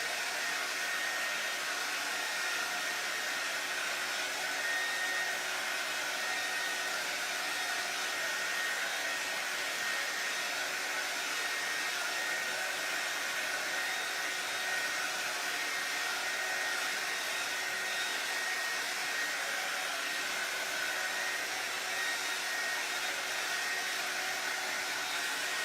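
A hair dryer runs in one steady, unbroken blowing whir for the whole stretch, close and constant, drying paint on a faux farmhouse wood finish over a stretched white canvas, with no talking.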